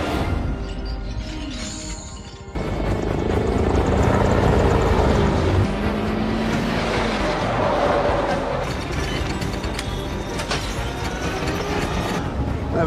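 A combat helicopter rotor thumps loudly throughout an action film scene, blending with vehicle noise and shifting tones, with a sudden swell after a quieter opening.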